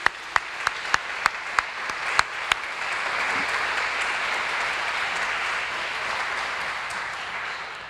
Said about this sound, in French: applaudissons-le.